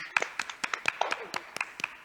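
Scattered, uneven hand claps from an online symposium audience in Mar del Plata, a dozen or so sharp claps spread over two seconds rather than a full ovation.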